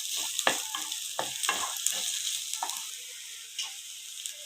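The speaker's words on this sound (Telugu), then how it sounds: "ఈ అల్లం వెల్లుల్లి పేస్ట్ పచ్చివాసన పోయిన తర్వాత వేపుకోవాలి." Ginger garlic paste fries with onions in a pan, giving a continuous bright sizzle with several louder scraping stirs early on that thin out toward the end, close-up with no voices.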